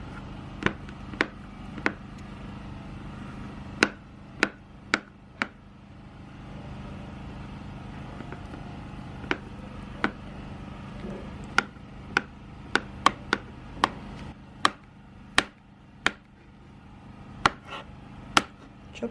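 A knife chops avocado into small cubes on a cutting board for an egg and avocado salad, giving sharp, irregular knocks that come in bursts, some close together and some spaced out, with no talking.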